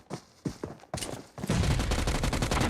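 Gunfire in the mobile battle game PUBG Mobile, a few separate sharp shots followed by a sustained rapid burst of automatic fire, loud and close.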